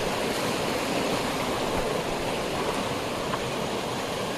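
A fast-flowing, clear mountain stream rushes over stones in a steady, full roar that never lets up, heard close by and alone.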